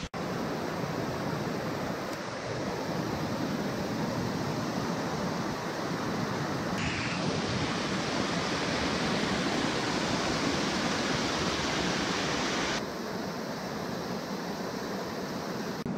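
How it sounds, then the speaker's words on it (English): A roughly 100-foot wilderness waterfall pours in a steady, dense roar without pause, heard up close. "you can hear some rushing water. Followed it back and it's this incredible waterfall."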